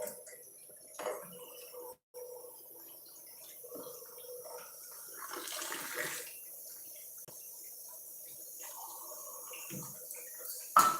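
Water is poured into flour for kneading dough, with soft intermittent trickles and splashes that stay fairly faint over quiet room noise.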